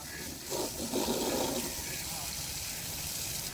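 Water gushes and splashes steadily as a motorbike tyre is washed outdoors, a continuous running wash with a brief louder surge near the start and voices talking over it.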